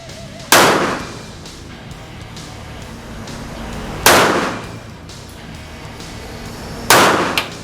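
Three sharp, loud gunshots from a Kel-Tec PMR30 .22 Magnum pistol, spaced a few seconds apart, each with a quick crack and short fading echo.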